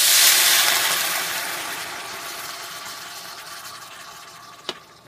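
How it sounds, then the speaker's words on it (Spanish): A cup of orange juice is poured into a pot for chicken adobo, with a steady rushing pour that starts strong and tapers off, followed by a single light clink near the end. "le vamos a poner una taza de jugo de naranja"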